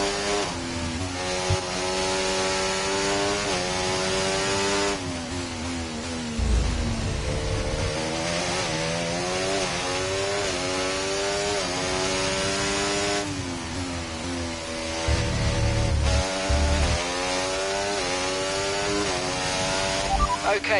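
An F1 race car engine in the video game F1 24 revs and shifts through gears repeatedly, pitch climbing and dropping in cycles, with a voice speaking over it at times.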